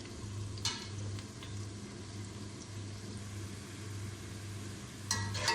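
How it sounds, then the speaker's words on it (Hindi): Something frying lightly in hot mustard oil, a continuous gentle sizzle with a low steady hum underneath and a couple of brief clattering stir sounds, close up and without speech. "हमने सरसों का तेल लिया, इसको हम हल्का फ्राई कर लेंगे।"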